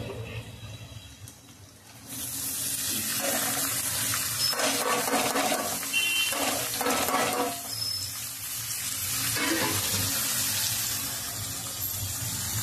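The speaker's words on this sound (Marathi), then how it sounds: "आता याच्यामध्ये हा कांदा टोमॅटो आपल्याला खूप चांगला ब्राऊन कलर होईपर्यंत खूप छान असा हा आपला कांदा टोमॅटो यामध्ये मी परतून घेते" Onion and tomato sizzle steadily in a hot pan for a bean sprouts curry, a broad continuous hiss that swells after a quiet start and holds fairly loud throughout with no talk.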